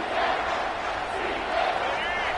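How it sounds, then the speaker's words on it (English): A football stadium crowd roars steadily through a tense third down late in a close college game, a dense, loud wash of cheering that fills the whole moment under a play-by-play commentator's voice. "3rd down, and this crowd is tearing the lid off this place."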